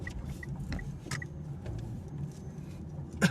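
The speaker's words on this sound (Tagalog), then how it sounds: "Traffic na." Road traffic with cars passing at a low, steady rumble, faint and somewhat distant, with small scattered clicks and noises over it and no voices.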